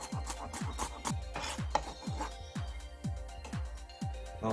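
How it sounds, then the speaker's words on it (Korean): Knife thinly slicing the green part of a leek on a cutting board in quick, steady strokes, about ten even cuts, close and crisp with no talking. "이 부분을 실파처럼 얇게 썰어서 사용합니다"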